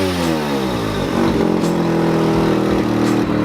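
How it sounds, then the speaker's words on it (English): A Mazda RX-7 FD3S rotary engine revs up close and loud, rising from a steady idle into a sustained higher-pitched rev with a brief dip and surge before settling, with no talking over it. "I'll give you guys a little rev"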